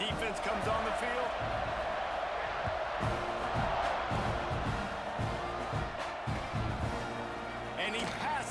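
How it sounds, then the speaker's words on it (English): Stadium crowd noise from a college football game in EA Sports College Football 26, a steady loud roar of cheering fans filling the whole stretch, with thumping game sounds mixed in. "This crowd's going to get loud when their defense comes on the field."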